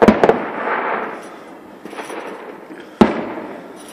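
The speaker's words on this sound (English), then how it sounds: "getting quite a few fireworks here." Fireworks burst in sharp bangs at a New Year celebration, a quick double pop at the start and another loud crack later, with crackling fizz trailing between them.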